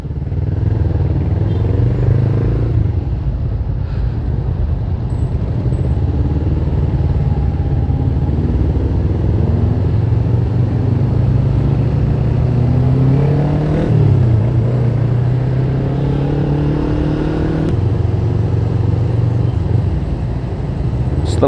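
Dense street traffic on Jalan Urip Sumoharjo in Surabaya, heard from a moving motorcycle in the late afternoon: a steady engine rumble with passing motorbikes and cars revving and accelerating nearby, continuous and loud throughout.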